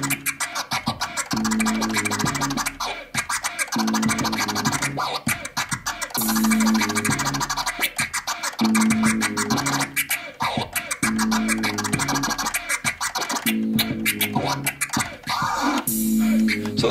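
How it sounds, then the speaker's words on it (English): A DJ scratches a vinyl record on a turntable, working the crossfader over a looping beat; fast, choppy scratch bursts repeat throughout, loud and up front, with no talking. "So those are just some basic scratches for you"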